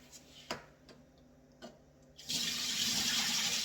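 Water pours steadily from a tap over rice in a strainer, starting after a few faint ticks and clicks and then gushing loudly and continuously to the end.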